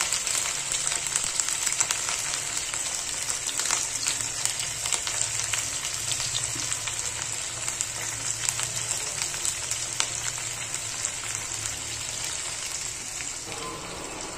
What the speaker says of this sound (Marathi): आता हे शिमला पण याच्यामध्ये आहे ना मी थोडा फ्राय करून घेते.